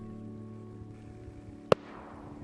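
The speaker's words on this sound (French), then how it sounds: "Chaque coup de fusil envoie une gerbe de billes de métal." One sharp, distant shotgun blast fired at a wounded oystercatcher on the Baie de Somme during hunting season, a lone crack over a steady low background hum.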